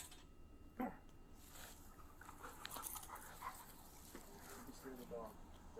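A police dog yips, whimpers and pants during a police raid, with short sharp barks and panting bursts heard faint and somewhat distant under people talking nearby.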